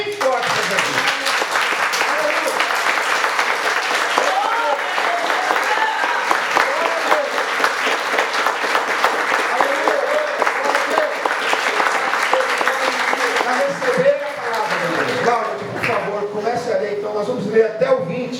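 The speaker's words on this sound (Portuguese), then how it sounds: "Dê uma salva de palmas bem forte para Jesus." A church congregation claps loudly and continuously through a Sunday service, dense applause filling the room with voices rising over it throughout.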